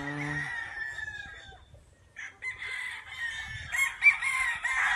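A rooster crows at a large chicken farm in Pangasinan, one long call near the start, then a second burst of crowing and clucking from several birds, moderately close with no talk.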